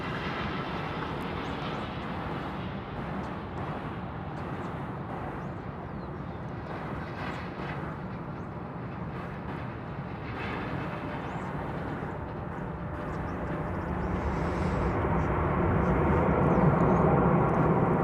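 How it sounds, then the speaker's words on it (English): Airbus A319 airliner arriving at DFW Airport, a steady broad engine roar that holds evenly and swells louder toward the end, with no talk over it. "Airbus A319 checking in from San Luis Potosí in Mexico."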